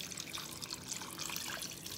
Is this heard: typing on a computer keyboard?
no